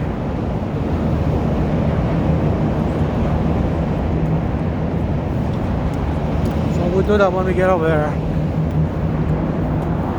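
Steady car traffic on Chicago's Lake Shore Drive makes a constant broadband roar mixed with wind buffeting, running beneath a person talking close to the microphone throughout.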